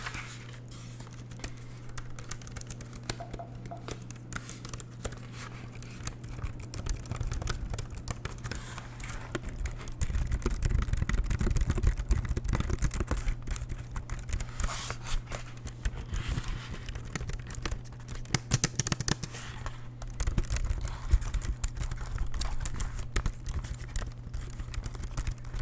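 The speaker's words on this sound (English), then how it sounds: "this is just a small keyboard, period." Continuous rapid typing on a small computer keyboard, a dense, steady patter of close key taps for the whole stretch over a low background hum.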